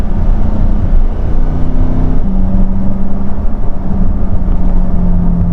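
A 2023 Corvette C8 Stingray 2LT with the Z51 package in track mode, its engine a loud, steady drone heard from inside the cabin, with a clear pitch step as it shifts gear.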